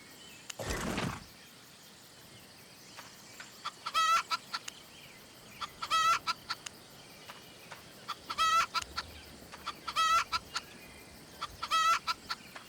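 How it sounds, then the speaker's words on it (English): Chickens on a farm in the video game Albion Online cluck in repeated bursts, roughly every two seconds, close and clear over quiet ambience, after one brief louder noise at the start. "And see your chickens, if you feed them, you get eggs."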